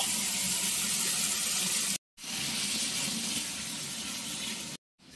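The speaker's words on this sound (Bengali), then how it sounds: "জলটা এবার দিয়ে দিচ্ছি।" Water pours steadily into a cooking pot of chickpea dal, a loud continuous splashing rush broken by two brief pauses.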